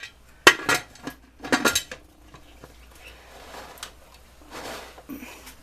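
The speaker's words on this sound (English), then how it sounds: "we're just gonna put our canner on here" A metal pressure canner is set down on a stovetop with a couple of sharp clanks and rattles up close, followed by quieter scraping and knocks as it settles, with no talk over it.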